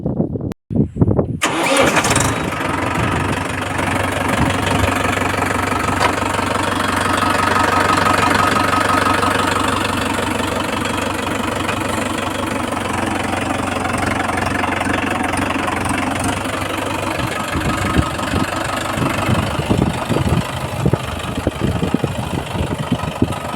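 A tractor fitted with a rotavator cranks and fires after a brief silence, then runs loudly and steadily with a rough, throbbing engine note for the rest of the stretch.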